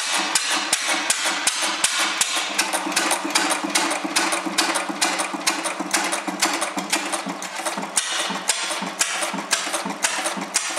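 Large Niel stationary engine running on producer gas from a gasifier, a loud, steady rapid knocking and chuffing beat with metallic clatter, continuous and close throughout.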